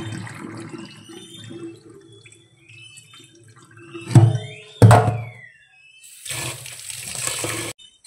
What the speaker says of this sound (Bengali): চালটা তো ধুয়েই নিচ্ছি, চালটা ধুয়ে এবার বসিয়ে দেবো